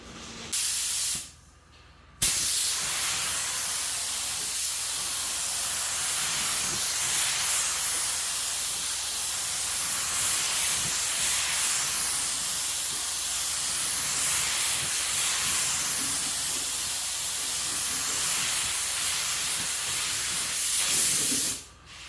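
Rust-Oleum spray paint hisses steadily from an aerosol can, Geisha Doll color going over Stone Gray, in one long continuous burst after a brief opening spurt and a short pause, loud and close with no talking.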